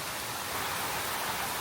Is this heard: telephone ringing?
no